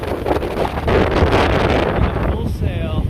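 Strong, steady wind of around 25 knots roars across the microphone aboard a sailboat under full sail, making about 8 to 9 knots toward Key West, with continuous loud buffeting and rushing water beneath.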